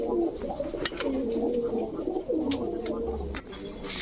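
Several Chila pigeons coo in soft, repeated rolling calls, close by, with a few sharp knocks and light rustling in the background.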